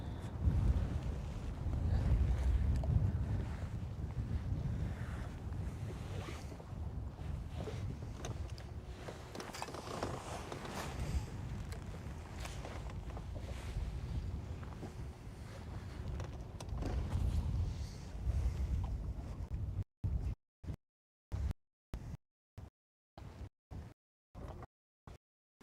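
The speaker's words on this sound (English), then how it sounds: "That is a north wind." A strong north wind buffets a fishing boat out on Lake Guntersville, roaring and rumbling against the microphone for about twenty seconds before the sound breaks into short choppy bursts.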